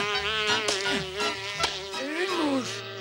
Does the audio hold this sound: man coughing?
no